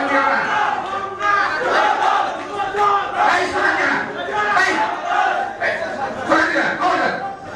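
Crowd at a BNP political rally chanting slogans in loud, rhythmic bursts of many voices, close and continuous, with shouting rising and falling throughout.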